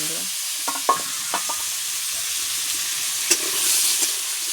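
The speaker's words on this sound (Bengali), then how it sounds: "ভাজা তেলে এখন আমি আলুগুলো ভাজা করে নেব" Potatoes fry in oil that was just used for frying fish, giving a close, steady sizzle. Scattered scraping clicks from stirring in the pan sound over it.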